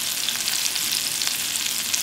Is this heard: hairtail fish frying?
yes